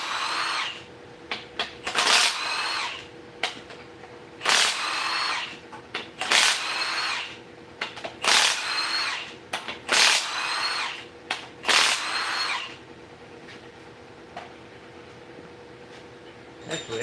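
Bursts of a power tool, likely an impact gun, loosen bolts on a Tahoe engine during teardown, roughly eight short whirring pulses separated by pauses, fairly close with faint background clatter.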